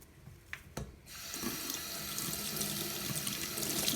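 Cold water gushing steadily from a tap into a sink after a couple of soft clicks, growing slightly louder as it keeps running.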